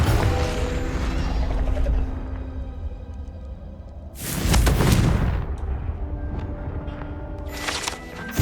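A Confringo blasting spell explodes in Hogwarts Legacy, a loud broadband burst after a stretch of rumbling, clanking mechanical ambience, then settling back to a quieter hum with faint whooshes.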